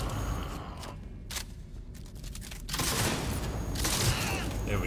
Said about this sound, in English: But I am gonna shotgun this guy.